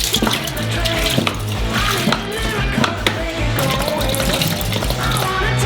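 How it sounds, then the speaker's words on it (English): Milk from many cartons poured into a large saucepan, a steady loud splashing and gurgling stream with a rhythmic pulsing backing underneath. "We take a lot of milk out of the refrigerator. Open them up and pour them into a large saucepan."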